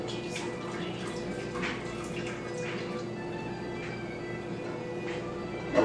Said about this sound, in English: what I'm going to do is separate the curds from the whey